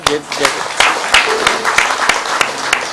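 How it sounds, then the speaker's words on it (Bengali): An audience claps at a social business design lab event, a brief burst of sharp, evenly spaced handclaps that sound fairly close and loud over a few seconds. "আমরা আবার জোরে হাততালি তার জন্য"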